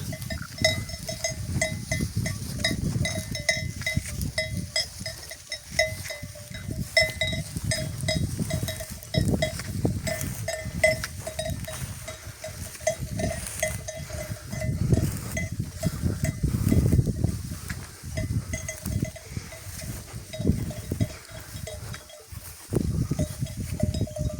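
A flock of sheep grazing in the evening fills the scene with a soft, continuous rustle and scattered tinkling bells, with occasional faint bleats in the distance.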